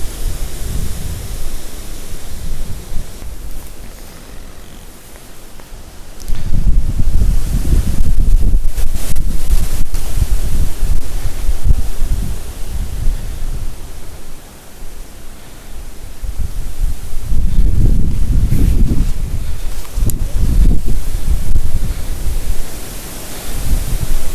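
Strong wind buffets the microphone in heavy gusts, a loud low roar that swells and eases over time with no voices.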